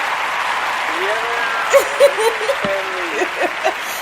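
Audience applause for a guest calling in live to a talk show, a modest wash of clapping behind a host's exclamations and whoops that rise over it in short bursts.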